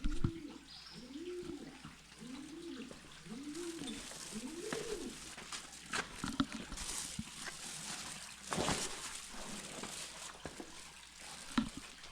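A pigeon coos five times in a soft rolling rhythm, followed by faint rustling, scraping and occasional knocks nearby.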